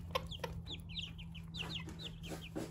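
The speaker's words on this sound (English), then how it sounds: "So many of these chicks are roosters." Silkie chickens, a hen with her chicks, cluck and cheep in quick overlapping bursts, with high chick peeps over a soft steady background hum, fairly faint and close.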